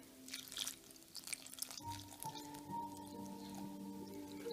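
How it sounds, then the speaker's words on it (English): Water runs and trickles into a pot for wildflower tea, a faint splashing pour that settles into a steady low stream, alone without talk. "So now we're gonna put the water."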